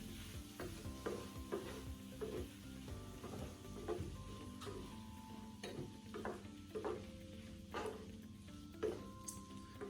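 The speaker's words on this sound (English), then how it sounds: "Just give that a good stir." Drained, rinsed tinned lentils being stirred into a pan with prawns for a healthy prawn dhansak, giving a steady soft sizzle with a rhythmic series of scraping stirs, close and alone with no talk.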